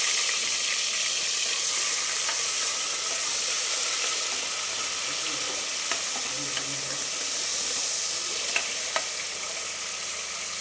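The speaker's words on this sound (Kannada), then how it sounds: "ಇದಕ್ಕೆ ಸ್ವಲ್ಪ ಸಾಸಿವೆ, ಈರುಳ್ಳಿ ಮತ್ತು ಕರಿಬೇವು, ಆಮೇಲೆ ಒಂದು 2 ಟೊಮೆಟೊ ಹಾಕಿ ಫ್ರೈ ಮಾಡ್ತಾಯಿದ್ದೀನಿ" Mustard seeds, onion, curry leaves and tomatoes fry in hot oil with a steady, close sizzling hiss, broken by a few faint crackles and spoon taps.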